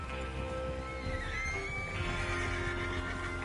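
A horse in Red Dead Redemption 2 whinnies with a long, wavering neigh over a steady, busy background of game ambience and low rumble.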